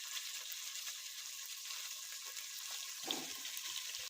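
Tomatoes dropped into a hot pan of oil while frying masala for Hoskote-style biryani at home, giving a steady hissing sizzle throughout with a brief louder spatter near the end.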